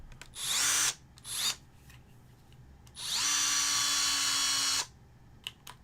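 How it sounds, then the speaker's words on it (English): A battery-powered drill spins up in two short bursts and then one long, steady whine before stopping, loud and close, with a few small clicks afterward. "I have an impact and a drill, both with batteries."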